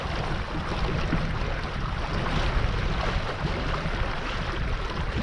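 A sailboat moving along on Lake Eucumbene at about 4.5 knots, giving a steady, continuous wash of water and wind noise with a low rumble throughout, fairly loud and close, with no talking.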